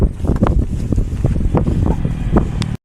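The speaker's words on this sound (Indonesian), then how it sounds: "Kencang angin gitu." Strong wind buffets the microphone on a boat trip at sea off Merauke, Papua, a loud continuous roar with gusty surges and faint water sounds beneath.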